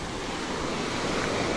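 Ocean waves wash steadily onto a beach, a continuous loud roar of surf with wind noise and no voices.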